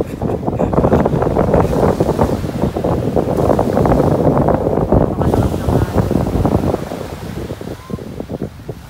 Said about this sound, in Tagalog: Napakalakas din ng alon ngayon dito. Pati hangin napakalakas